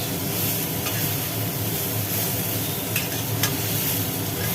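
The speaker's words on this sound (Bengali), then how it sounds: "একেবারে সুন্দর করে কষানো হচ্ছে মশলাটাকে" Spice masala with onion, cumin and green chili paste being sautéed in a pan, giving a steady close frying hiss with soft stirring scrapes throughout and no talk.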